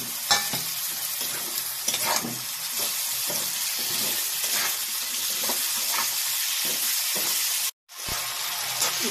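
Greens stalks sizzle and crackle loudly in a hot pan for a village-style sabji, with stirring scrapes throughout and a sudden brief drop near the end before the frying returns.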